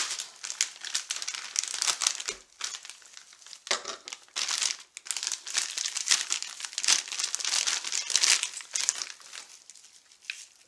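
Rusty roofing knife slicing and tearing open a plastic-wrapped package for a solar tracker controller, steady close crinkling and crackling with brief pauses, no talk.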